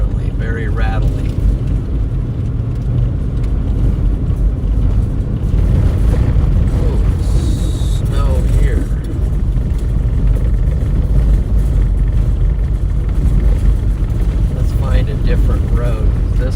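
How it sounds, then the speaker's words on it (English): A car rattles along a rural Eastern Nebraska road with stutter bumps in winter, making a loud, constant low rumble of tyres and a shaking cabin, with people talking over it now and then. "That's the road we are on currently, very rattly."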